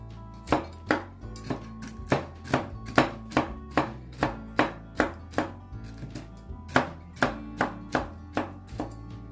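A knife chops steadily through crisp celery on a board, about twenty sharp, evenly spaced cuts in a brisk rhythm, close and clear.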